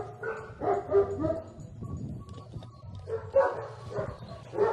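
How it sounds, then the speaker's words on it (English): Cadaver dogs at a dog school trained to find human remains bark in bursts, several loud woofs at the start and again near the end, with whimpering and yips in between, close by. "The school's cadaver dogs are trained to detect dead bodies in shallow graves"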